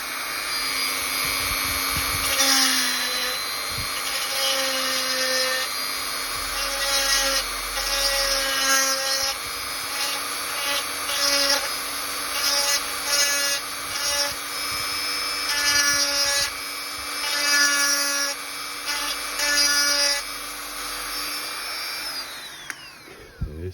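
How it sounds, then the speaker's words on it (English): A high-pitched rotary drill whines steadily and close up, widening a hole in a doll during a Barbie restoration, its pitch wavering as it works against the material, running almost continuously before winding down at the end. "I'm going to go back in with the drill bit and just move the drill around the sides"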